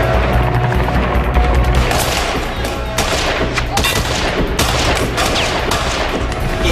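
AK-47 gunfire during a combat mission exercise: repeated bursts and single shots crack out loud and close, in an irregular rhythm with a rumbling background between rounds.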